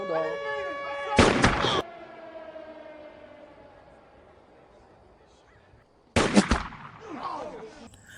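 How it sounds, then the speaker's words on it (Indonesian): Two sharp, loud bursts of rubber bullets fired at a prisoner in a prison yard, a sound effect with heavy reports separated by several seconds of ringing, tonal decay. "peluru karet meluncur dan menghantam tubuhnya dengan keras"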